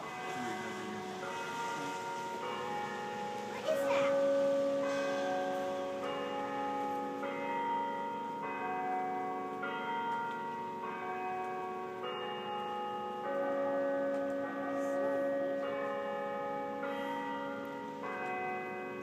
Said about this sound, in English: She started ringing the bells just at that minute.